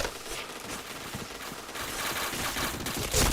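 Gunfire from a shooting video game crackles as a loud, dense fusillade of rapid automatic shots, continuous and close for a few seconds.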